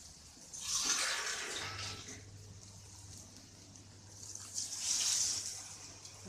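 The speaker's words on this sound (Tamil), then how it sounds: "அடி பிடிக்கிற மாதிரி தெரிஞ்சுதுன்னா கொஞ்சம் 1 டம்ளர் தண்ணி போல சேர்த்துக்கலாம்." A tumbler of water is poured into a simmering village-style country chicken (nattu kozhi) gravy, giving two soft splashing pours a few seconds apart with a quiet pause between them.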